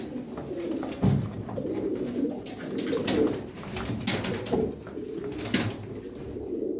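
Tumbler pigeons coo in a loft, with soft wingbeats and shuffling throughout. A few sharper flaps stand out near the start and the end. The sound is close and moderately loud.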